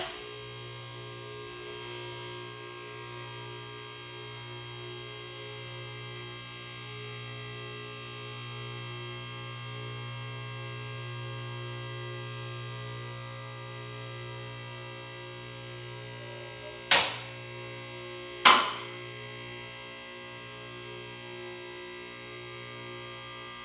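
A Danmar Cadet 6000XL scissor lift raising in a garage gives off a steady low electric hum for a long stretch, broken near the end by two sharp clanks.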